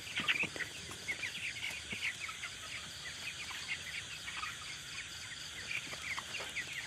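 Chickens and small, weak chicks in a coop, soft clucking and thin high peeping chirps repeating continuously at a low, distant level with no talking.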